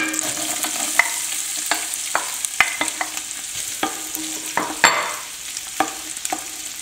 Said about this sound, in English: To this we're going to add our carrots.